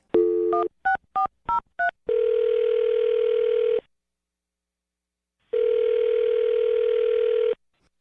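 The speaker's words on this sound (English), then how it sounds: "I'm going to dial her phone number right now" A telephone handset being dialled, with a quick run of distinct keypad tones followed by two long ringback tones separated by a pause, clear and close, with no talking.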